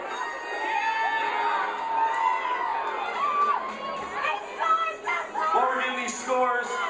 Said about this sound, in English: The Dixie Danger cheering section back here by me.